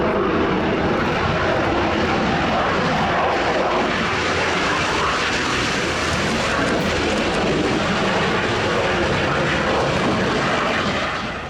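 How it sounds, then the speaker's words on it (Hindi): A JF-17 fighter plane's jet engine roars loud and steady, a dense, continuous rush of engine noise that holds without a break. "JF-17 फाइटर प्लेन, जिसे बेहतरीन और मारक लड़ाकू विमानों में गिना जाता है"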